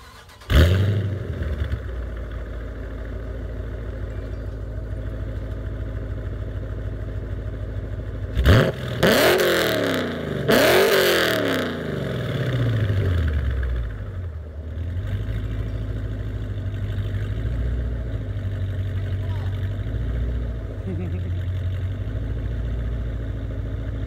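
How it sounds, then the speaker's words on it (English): A 5.7 Hemi V8 with JBA long-tube headers idles with a deep, steady rumble, then is revved hard twice in quick succession before settling back to idle. Loud and close, with no talking. "So I'm gonna give a couple rev videos of it,"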